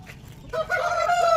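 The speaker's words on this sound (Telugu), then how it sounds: "మా ఫామ్ చుట్టూ తిరుగుతూ ఉన్న మా కోళ్ళు, బ్రీడింగ్కి వేసిన పుంజులు" On a farm where hens roam among breeding roosters, a rooster's call rises sharply out of quiet background noise partway through and carries on strongly until the end.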